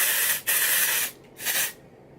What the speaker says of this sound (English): let the hair fall and spray at the same time